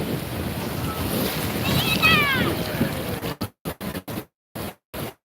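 Rushing water in a video game, a steady loud whoosh that breaks into short choppy surges near the end.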